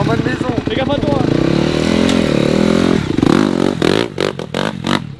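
A pit bike revs and accelerates on a flooded, muddy dirt track, engine whining and shifting pitch with clattering near the end, while people talk in French over it.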